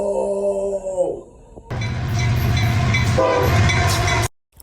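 A train rolling past with a loud horn blast at the start, then a dense rumble of wheels and cars clattering close by before cutting off abruptly.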